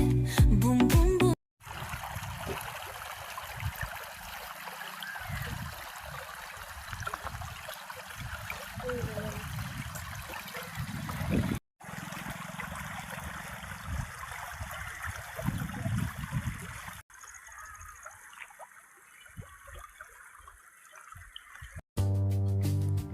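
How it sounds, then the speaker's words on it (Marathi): A small roadside stream flows and trickles with a soft, continuous babble, fairly close and steady, interrupted by a few abrupt cuts between takes. "हा पाण्याचा मंजूळ आवाज ऐकून मनाला खूपच छान वाटत होतं"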